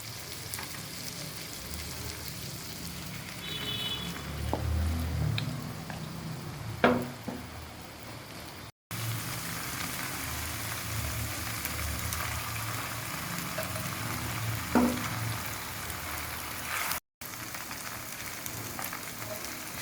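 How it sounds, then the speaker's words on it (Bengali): Pasta is stirred into boiled vegetables in a pan for chicken pasta, with a steady soft sizzle and occasional utensil scrapes and clinks against the pan. "এখন আমি পাস্তা মিক্সড করে নেব।"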